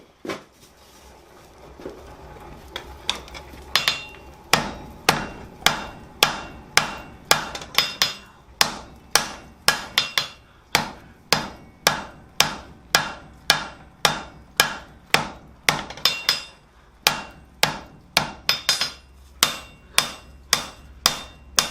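A blacksmith hammers a forging on an anvil, striking sharp, ringing blows in a fast, steady rhythm after a few slower opening hits, close and loud with no talk.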